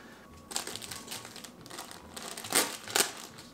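A knife slits open a plastic pancake mix package, giving close crinkling and rustling with a few louder crackly bursts, quiet overall and without speech.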